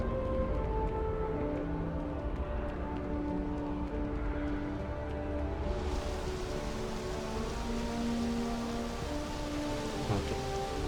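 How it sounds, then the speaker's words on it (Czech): Steady, dense rain of a thunderstorm in the space game Starfield, a continuous loud downpour that thickens and brightens about halfway through, with no talk over it. "Bouřka."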